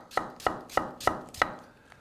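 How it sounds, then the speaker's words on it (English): Chef's knife slicing apples on a cutting board: five evenly spaced, crisp cuts at a steady rhythm, each with a firm thunk against the board, close and clear with no talking. "Now we need to slice these apples. So I can take them out and put them and use the chef's knife again."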